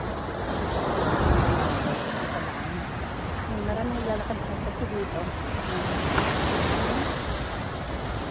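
Steady wash of sea surf rolling onto a shore in Da Nang, Vietnam, with wind across the microphone, a voice talking briefly over the constant roar.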